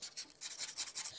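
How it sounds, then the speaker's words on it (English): Sandpaper rubs back and forth over a fishing rod tip to take off excess glue, several quick close rasping strokes in a steady rhythm, with no voices. "And sand that down"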